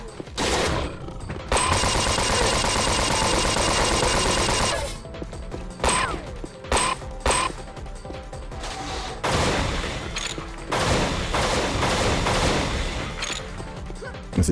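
Rapid gunfire bursts passing by in a retro game or ride setting, dense loud crackling volleys with brief gaps and crashes, continuous and close throughout.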